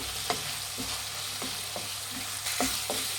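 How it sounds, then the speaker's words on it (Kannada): Long thick-cut capsicum strips frying in oil, giving a steady close sizzle broken by a regular series of spoon scrapes and stirs in the pan. "ಕ್ಯಾಪ್ಸಿಕಮ್ ಹಾಕ್ಕೊತಾ ಇದ್ದೀನಿ ಇದು ಎಣ್ಣೆಲೇ ಫ್ರೈ ಮಾಡಬೇಕು"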